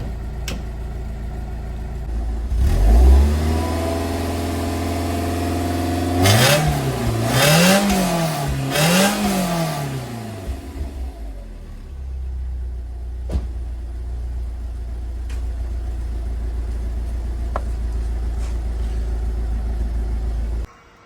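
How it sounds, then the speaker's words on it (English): A budget winter car's engine cold-starts with a cranking burst, catches, then revs in a few rising and falling pulls before settling into a steady, loud idle rumble, with no one talking. "Let's just go have a quick listen. Lovely cold start."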